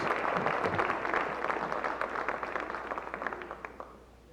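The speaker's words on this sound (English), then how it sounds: "let's give one more round of applause." Audience applauding at a school awards event, a steady wash of clapping from a crowd that gradually thins and fades out.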